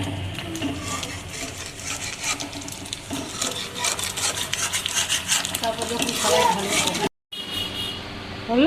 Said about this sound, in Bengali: এবার আরও মোটামুটি কুড়ি পঁচিশ মিনিট এখনও নাড়তে হবে নেড়ে আরও শুকিয়ে যাবে